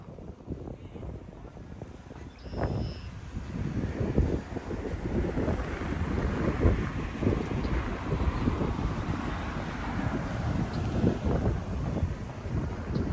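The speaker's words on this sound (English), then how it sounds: "windy, man. Hang on to that hat." Strong wind buffeting the microphone outdoors on a roadside near Marathon, Ontario, a steady roaring rush with gusts that swell and linger, and no clear voices over it.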